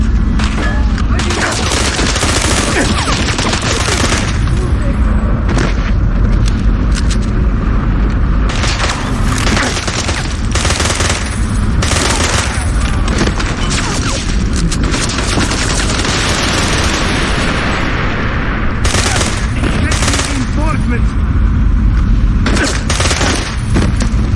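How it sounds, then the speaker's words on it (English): Gunfire in the James Bond 007: Blood Stone video game, loud sustained bursts of automatic fire and booming shots in close, continuous succession, with brief game voices mixed in. "Lethal force is authorized. Shoot intruder on sight. Shoot!"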